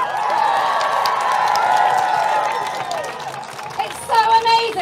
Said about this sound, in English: I want you to give yourselves a massive cheer.